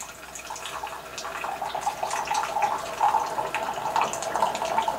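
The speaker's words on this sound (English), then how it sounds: "This one is starting to fill up the hot water internal tank" A Keurig K155 Office Pro coffee machine fills its internal hot water tank with a steady, trickling rush of water that builds slightly in level and continues without a break.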